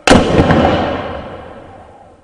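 A ceremonial rifle volley fired on command at a Memorial Day service cracks out as one loud, sharp report that rings and decays slowly over about two seconds.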